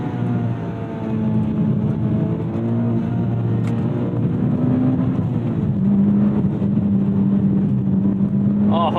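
A 2014 Mitsubishi Lancer Evolution X engine drones loudly from inside the cabin, with pitch steps and a blip of revs as gears change, sustained and close throughout.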